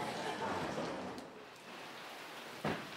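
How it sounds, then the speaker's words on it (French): Steady rain falls outdoors while the listener stays sheltered from it, a broad even hiss throughout with a brief louder patter near the end. "On est sous la pluie, mais protégé."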